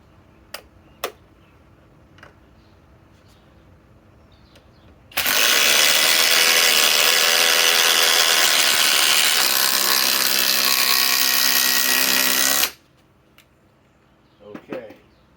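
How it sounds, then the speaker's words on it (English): Compact Skil and Dewalt impact drivers run in a side-by-side test, giving a loud, continuous whirring burst of about seven seconds after some light clicks and handling noises, with brief knocks afterward. "let us run the SKIL"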